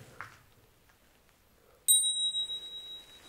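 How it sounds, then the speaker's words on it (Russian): A small hand bell rings once in an abandoned hospital basement morgue, a sudden bright metallic ding with a long ringing decay, after a stretch of quiet room noise with a faint earlier tap. "попробуйте позвонить в колокольчик"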